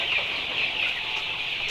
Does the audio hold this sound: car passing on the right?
no